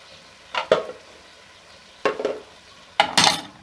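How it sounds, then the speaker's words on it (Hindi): A spoon stirs garam masala and black pepper through a vegetable chana pulao in a pot, making three short bursts of scraping and clinking against the metal, spaced about a second apart over a faint sizzle, close and without talk. "गरम मसाला और काली मिर्च हमेशा एंड पे डालें। इसको मिक्स करके"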